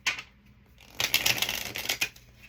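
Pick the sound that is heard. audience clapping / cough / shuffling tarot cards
shuffling tarot cards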